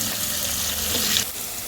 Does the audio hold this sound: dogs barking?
no